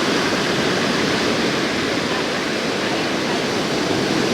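Ocean waves breaking on a beach on a hot day, a steady, loud, unbroken wash of surf with no distinct individual crashes and no voices.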